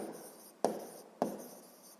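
Pen strokes writing out a sixth-grade math solution on paper: a soft continuous scratching with two sharper taps as the pen touches down, close and quiet, with no voices.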